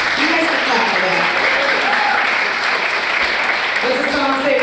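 Audience applause at the Girls Write Now Fall Awards ceremony, a steady wash of clapping with people's voices calling out and talking over it.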